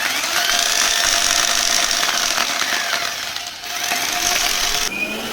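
An electric hammer drill runs steadily on a batteryless inverter, a loud continuous rattling hammer with a brief dip in intensity before carrying on.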